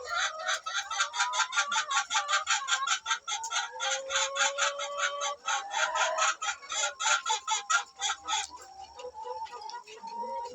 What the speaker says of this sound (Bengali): মুরগি ভালো ডিম পারে।